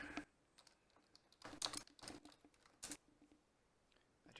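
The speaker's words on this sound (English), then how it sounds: "Were you constantly typing?" Quiet clusters of computer keyboard keystrokes come in short bursts with pauses between them, close and soft, with no voices.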